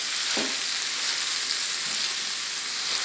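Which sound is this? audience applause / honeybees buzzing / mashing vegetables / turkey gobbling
mashing vegetables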